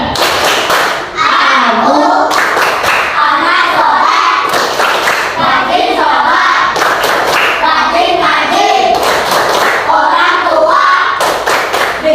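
Children in an Indonesian classroom perform the 'tepuk anak soleh' rhythmic clapping game, with dense, steady hand claps running throughout alongside chanting voices.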